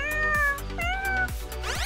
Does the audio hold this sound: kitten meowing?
yes